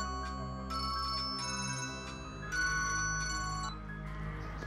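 A telephone ringtone plays a bright electronic melody in bursts, steady and fairly clear with no voices over it.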